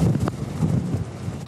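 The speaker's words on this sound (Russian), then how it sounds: "И ураганный ветер, и дождь, и даже метель." Strong storm wind during a severe Balkan storm in Croatia roars and buffets the microphone as a steady, loud rush with no speech.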